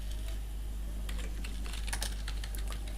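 Someone types on a computer keyboard while writing text in a Microsoft Word résumé design, with quick, irregular key clicks over a constant low hum and no voices.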